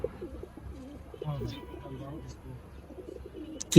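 Caged racing pigeons, about a dozen kept together, coo in low, soft, rolling warbles that overlap steadily throughout, with a faint sharp knock at the very end.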